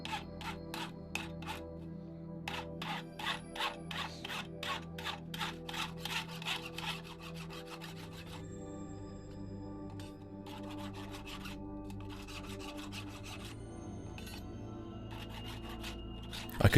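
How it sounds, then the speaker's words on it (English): Rhythmic rasping strokes of a file on metal, filing down raised areas on a steampunk-style arrow, quick and regular at first, then a denser continuous scraping, close and fairly quiet. "I moved on to filing down the raised areas."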